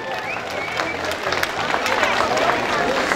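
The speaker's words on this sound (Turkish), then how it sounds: "bir kez daha kendilerini alkışlıyoruz efendim" Audience applause for a folk minstrels' performance in Özler village, with a crowd clapping steadily alongside murmuring voices, cheers and a background hubbub.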